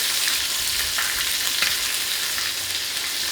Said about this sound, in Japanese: ここに大根を入れていきます。 で大根も炒める。